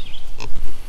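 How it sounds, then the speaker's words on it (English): A pig grunts once, short and fairly close, against a low rumbling farmyard background. "Come here, pig."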